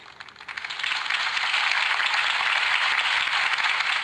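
Crowd applause after Harvey Dent's campaign speech in Batman: The Telltale Series, swelling within the first second into a dense, steady roar of clapping that holds to the end with no voices.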